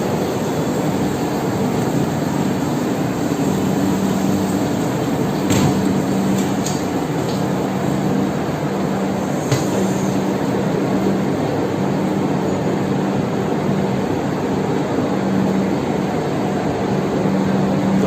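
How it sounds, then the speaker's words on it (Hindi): The Bihar Sampark Kranti Express pulling away from a station platform at Sitamarhi, with a steady, loud, unbroken rumble and hum of the moving train close by for the whole stretch. "ये प्लेटफॉर्म से देखिए किस तरह से रवाना होती हुई नज़र आ रही है बिहार संपर्क क्रांति एक्सप्रेस"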